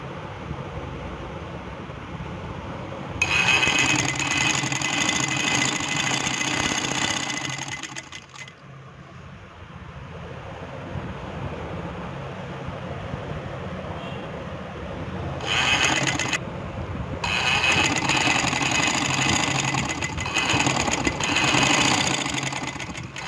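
A sewing machine stitching fabric runs in two loud, steady bursts of rapid whirring, with a pause of quieter handling between them and a brief stop near the end.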